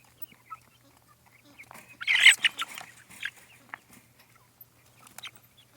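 Cornish Cross meat bird chicks cluck and chirp softly, with a brief louder burst of calls in the middle and scattered faint peeps before and after.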